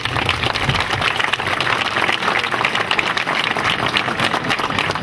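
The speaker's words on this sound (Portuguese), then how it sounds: "Eu desejo uma salva de palmas para ele." Applause from an audience at a live singing event, a dense steady patter of many hands clapping throughout, moderately loud and close.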